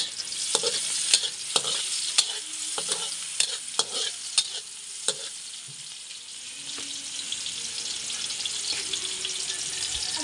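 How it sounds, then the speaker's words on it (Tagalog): Garlic sizzles and fries in a pan before onion is added, a steady hiss punctuated by frequent sharp clicks and scrapes of a spatula stirring, with no voices. "hintay natin pumula ang bawang, saka natin ilagay ang sibuyas"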